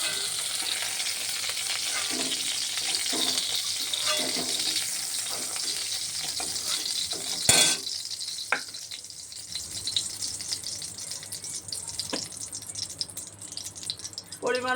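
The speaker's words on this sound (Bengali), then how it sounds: "খুব বেশি ভাজবো না, তুলে নিচ্ছে হালকা ভাজা।" Pointed gourd (potol) slices shallow-frying lightly in oil, giving a steady close sizzle throughout with occasional stirring scrapes and a sharp clack midway.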